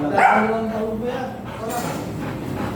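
A golden retriever at a stud service in Binalonan, Pangasinan, gives a few short barks and yips close by, mixed in with people talking nearby.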